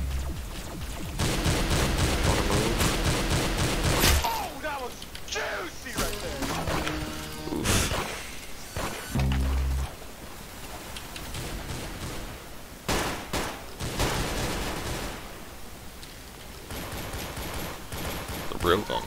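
Gunfire in an arsenal-style shooter video game: bursts of rapid shots and sharp single blasts, loud and close, broken by pauses, with someone talking over parts of it.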